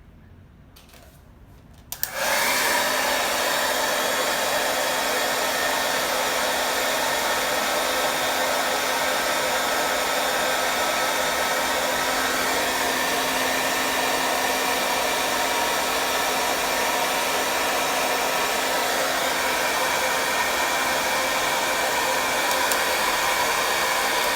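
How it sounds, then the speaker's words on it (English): A hair dryer switches on after a brief quiet moment and blows continuously at a loud, steady whir with a constant hum for the rest of the clip. "So I'm gonna use my hair dryer for that."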